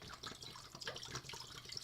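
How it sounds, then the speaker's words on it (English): Spring water pours into a crock pot, a soft continuous splashing and trickling of liquid, quiet and close, with no talking. "So now I'm going to put this spring water inside"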